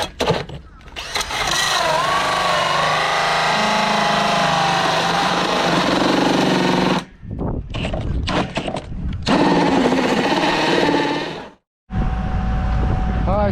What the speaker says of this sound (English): hole saw into the side of this thing so we can run our conduit